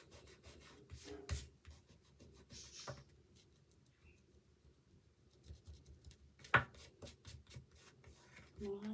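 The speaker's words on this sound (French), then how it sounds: "Je vais gommer un peu." An eraser rubs over glitter paper while a Christmas album is being made, producing soft, close scrubbing strokes in short irregular bursts, quiet and intermittent.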